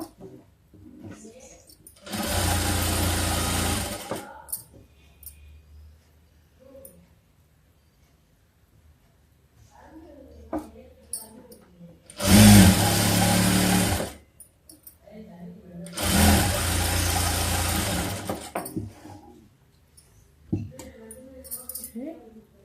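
Sewing machine stitching a hand-joined patch seam, three separate loud bursts of rapid mechanical whirring, each a couple of seconds long, separated by quiet gaps with soft handling noises and a little speech.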